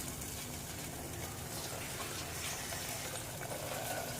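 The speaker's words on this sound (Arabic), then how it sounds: "هحط كمان ميه عشان خاطر تساعد الصلصه انها تتسبك كويس." Water poured into a pot of simmering Egyptian fatta tomato sauce, a soft continuous gushing and trickling heard fairly quietly for several seconds without talk.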